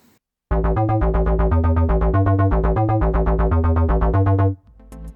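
A Korg Volca synthesizer deep house bass line pulses in a steady, quick sequence of short repeated notes, deep and prominent, stopping abruptly near the end.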